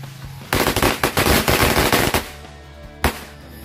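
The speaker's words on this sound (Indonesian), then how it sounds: "kita nyalakan mercon renceng Betawi malam Ramadan ini" A string of Betawi firecrackers goes off on a Ramadan night, a loud rapid crackling burst of close explosions lasting under two seconds, then one more separate bang.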